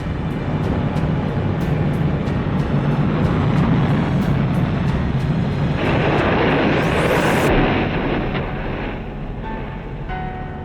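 Piston engines of a B-29 bomber, a loud, continuous, rumbling roar held steady for several seconds before easing off somewhat, with no voices.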